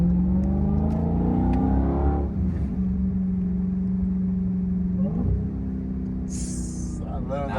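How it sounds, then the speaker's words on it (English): A Dodge Hellcat's engine drops a gear and revs, a loud, close, rising-then-falling roar followed by a steady drone. Voices talk over it. "I love that Downshift sound crazy."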